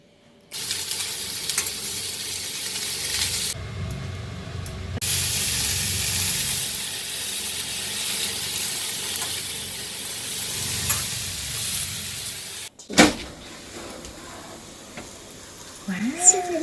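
Lemon pepper chicken wings and vegetables sizzle steadily in a hot pan, a continuous frying hiss with brief stirring clatter and a pause near the end, while a voice speaks briefly.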